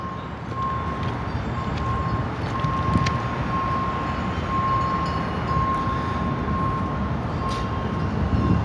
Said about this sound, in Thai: รถจักร ของบริษัทอิตาเลียนไทยหมายเลข 70201 นะครับ